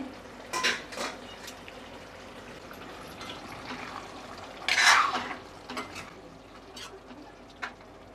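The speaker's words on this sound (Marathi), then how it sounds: "मी थोडंसं पाणी घालते" Water poured into a cooking pan of sukhi tendli being cooked Koli style with brinjal, a brief splashing burst amid clinks of utensils and cookware.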